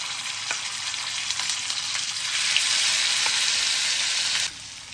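Ground masala paste with curry leaves sizzles and crackles in hot oil in a home kitchen pan, a steady close hiss that swells louder midway, then suddenly quiets near the end.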